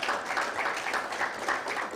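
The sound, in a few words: applause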